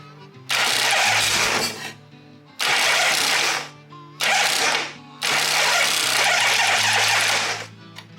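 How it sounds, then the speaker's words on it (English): A motorcycle's electric starter cranks in four loud bursts of whirring and grinding, each a second or more long with short pauses between, close up in a workshop-like space, no talk. "So the bike's making a strange noise."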